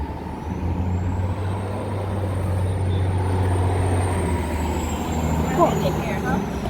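An RV bus passing on a street in South Pasadena, a steady heavy engine drone and rumble heard close for several seconds, with a faint high whine above and light voices in the background.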